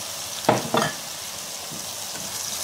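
Salted duck egg dropped into a pan of frying eggplant, two quick sizzling bursts close by, then a steady low frying hiss with faint stirring scrapes.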